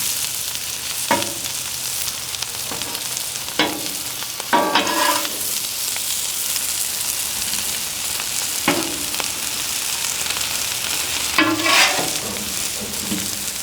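Tri tip steaks sizzle loudly in a hot pan after being flipped, a continuous close frying hiss broken by several sharp scraping and clattering bursts from turning the meat, with no talking.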